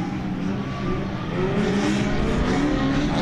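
Cars drifting at the PBIR racetrack roar from a distance in a constant, loud engine drone, revving higher partway through with faint tire squeal.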